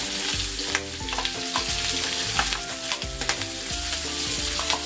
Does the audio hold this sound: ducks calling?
no